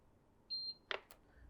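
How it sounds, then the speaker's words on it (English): A Runxin F73 Duplex water softener valve interface gives a short, clear electronic beep, followed by a couple of faint clicks in a quiet room. "wait for the audible beep"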